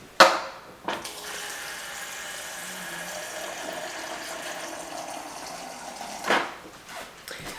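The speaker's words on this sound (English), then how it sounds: "Let me add a little water." Water runs in a steady gentle stream for several seconds while being added during food preparation, opening and closing with brief louder splashes and clatter.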